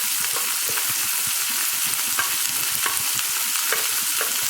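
Onions sizzle and fry in a pan for bread upma, a steady crackling hiss broken by the scrape and clatter of stirring throughout, close and continuous with no talking.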